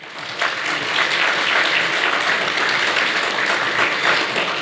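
Warm applause for Mr. Lah from a crowd at a beekeeping association event in Slovenia, a dense, continuous roar of clapping that starts abruptly and holds steady.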